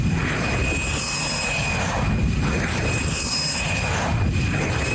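A jet engine roars loud and close with a dense, continuous rushing blast and high whistling tones, holding at a strong steady level throughout with no voices.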